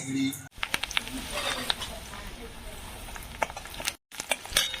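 Chopped onion and green chilli fry in a pan with a soft, steady sizzle and hiss. Light stirring scrapes come and go, and the sound is brief, close and low in level.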